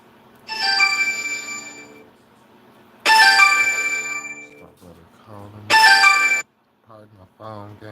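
A phone ringtone plays three loud, close bursts of bright melodic tones, each lasting about a second or more, separated by pauses, with someone speaking briefly between and after them.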